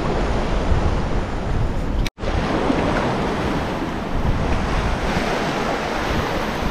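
Ocean waves break and wash continuously in a steady roar off Palawan, with wind buffeting the microphone and one brief dropout.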